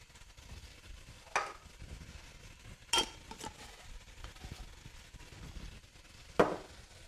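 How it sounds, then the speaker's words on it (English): Split red lentils poured into a cooking pot for tortilla lentil soup, a few brief clinks and rattles against the pot over a quiet kitchen background. "So we'll add in 3/4 of a cup of the split red lentils."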